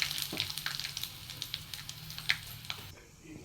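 Mustard seeds, chana dal and asafoetida sizzle in hot oil, a close, steady frying hiss dotted with quick sputtering pops as the crackle settles near the end.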